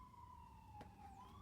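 A fire truck siren wails down the street, a faint steady tone that drifts slightly in pitch, heard from a distance.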